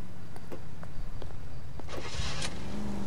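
A car in L.A. Noire starts up and rumbles at low pitch, with a few clunks before the engine note rises steadily as it pulls away.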